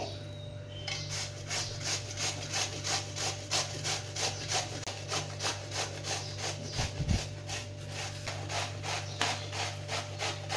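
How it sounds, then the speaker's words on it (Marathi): Bottle gourd being grated for halwa, a steady run of close, rhythmic scraping strokes, about two per second, over a constant background hum. "आता आपण हे खिसून घ्यायचे।"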